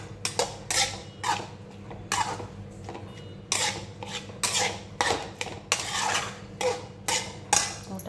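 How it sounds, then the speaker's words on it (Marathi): A spoon clatters and scrapes against a metal pan while raita is stirred, giving irregular sharp metallic knocks and scrapes at close range, with quiet pauses between strokes. "चांगलं हलवून घ्यायचं।"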